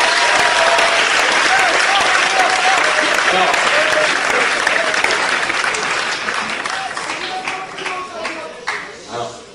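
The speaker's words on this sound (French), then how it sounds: "vous pouvez l'applaudir" An audience applauds at a live comedy show in Brussels, dense clapping from a large crowd with some voices mixed in, loud at first and then thinning and fading toward the end.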